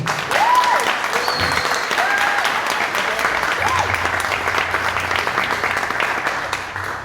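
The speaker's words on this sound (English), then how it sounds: "I'll give them a round of applause." A crowd at a skeptics and Christians panel discussion claps for the Secular Society panelists, a steady, moderately loud round of applause with a few whistles and faint murmurs, tapering near the end.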